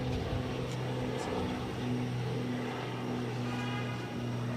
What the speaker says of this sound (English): This is Cape Air 1030, taking off on the Cessna 402C.